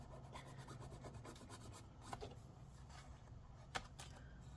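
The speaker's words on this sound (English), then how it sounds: "Some of the JB Weld kind of left a little thing here, so I kind of just want to scrape that out" Dried JB Weld being scraped off an HP ENVY x360 laptop hinge, soft continuous rasping with a couple of sharper clicks, very faint and close, no talk.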